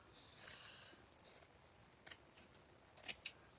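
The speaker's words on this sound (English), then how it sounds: "Cut this one out." Scissors cut out fabric flower pieces in a few quiet, crisp snips, spaced irregularly and heard close up against near silence.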